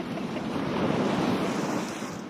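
Sea waves wash onto the shore in a broad, continuous roar, swelling slightly in the middle, with wind buffeting the microphone and no talk.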